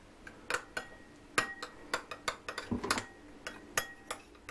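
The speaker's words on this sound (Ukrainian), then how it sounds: "Ось так олії і гарно все перемішуємо." Caesar salad being tossed with oil in a bowl, with a run of sharp clinks and taps of utensils against the bowl in an uneven rhythm, close and fairly loud.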